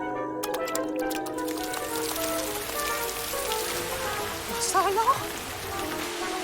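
Steady rain patters on a surface throughout, with a few brief spoken words and a faint bird chirp partway through.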